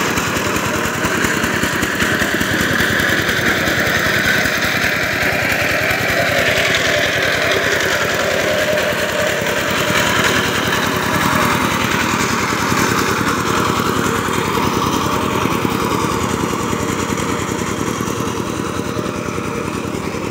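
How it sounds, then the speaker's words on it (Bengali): An ACI 20 hp diesel engine on a power tiller runs loud and close, a steady unbroken chugging drone with no pauses and no talking. "সাইপিং গাড়ি, এসিআই ইঞ্জিন, এসিআইয়ের 20 ইঞ্জিন এটা।"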